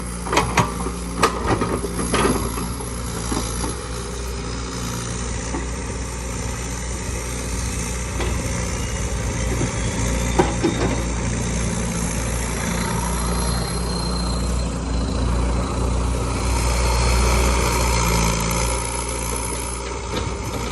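Turbocharged excavator diesel engine running at roughly half throttle, a steady heavy low rumble with mechanical clatter, loud and close, holding an even level for the whole stretch with no talk.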